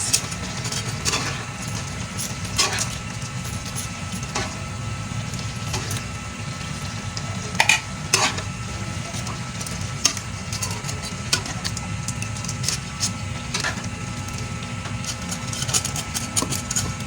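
Pancit bato guisado noodles frying in a pan with a soft steady sizzle, while a utensil scrapes and clatters in irregular stirring strokes close by, over a low background hum.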